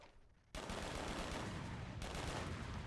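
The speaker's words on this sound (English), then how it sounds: "I made it explode a little bit early." A grenade bursting early in the video game Warhammer 40k: Eternal Crusade: a sudden loud blast after a quiet moment, then sustained crackling gunfire and a second burst, with no talking.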